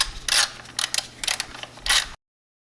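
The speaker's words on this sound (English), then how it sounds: "Then I'm going to grab a 10mm socket." A 10mm socket on a ratchet works bolts loose on a BMW N54 engine, with several short bursts of quick ratcheting clicks, close and clear, with no voices.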